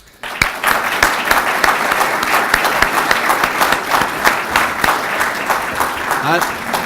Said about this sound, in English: give a little round of applause to all the people that had to put this on